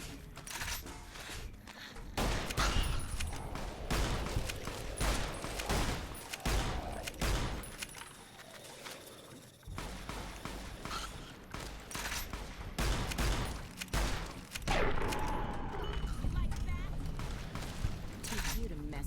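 Rapid bursts of gunfire in the modded hardcore Fallout: New Vegas game, with dense volleys of sharp shots and heavy thuds repeating throughout and a brief lull midway.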